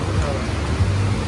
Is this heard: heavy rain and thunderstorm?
yes